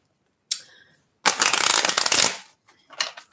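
A deck of tarot cards shuffled up close: a short riffle, then a dense, steady flutter of cards lasting about a second, followed by a few lighter card taps.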